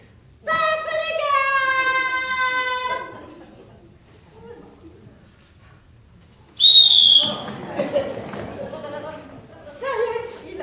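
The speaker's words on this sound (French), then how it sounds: "il ne faut pas siffler comme ça" A long shrill whistled note opens, followed later by a brief sharp whistle amid voices talking and exclaiming nearby.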